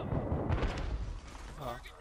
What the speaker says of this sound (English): Oh, shit, grenade!